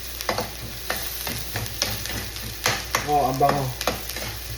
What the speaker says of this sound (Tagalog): i-caramelize lang natin yung ating onion o sibuyas